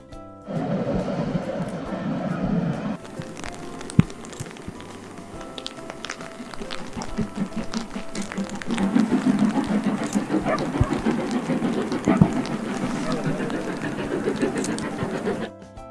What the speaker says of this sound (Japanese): 機関車が来るまでしばらく待ちます。